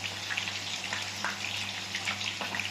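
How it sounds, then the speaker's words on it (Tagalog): Soy sauce is poured into a hot pan of cooking shrimp and vegetables, a steady hissing sizzle with faint splashing under a low constant hum, close and even in loudness. "Lagyan na po natin siya ng toyo."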